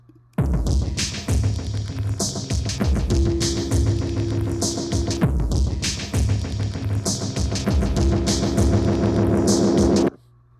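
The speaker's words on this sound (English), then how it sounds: "these drums on their own sound like this" A programmed drum loop run through an echo delay effect plays loud and steady, its repeating hits smearing into trailing echoes as the feedback builds toward the end before cutting off.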